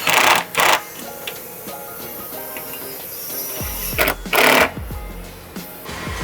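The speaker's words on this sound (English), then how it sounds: "Grab that 10mm socket and tighten it back down." A 10mm socket tightens factory nuts on a 2018+ S550 Mustang GT during an exhaust install, producing scattered mechanical clicks and a few louder bursts of metallic rattling close by.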